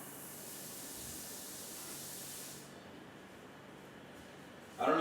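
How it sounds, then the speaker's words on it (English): Broadband hissing spray of a running shower, steady and fairly loud for a few seconds before thinning out, followed by a brief louder burst at the end. "That one was a shower."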